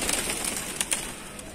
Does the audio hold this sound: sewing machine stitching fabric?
no